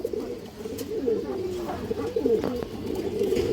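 Pigeons of old and high show lines, including red-pied hens, coo steadily in low, rolling repeated calls, close and fairly loud, with a few faint background noises.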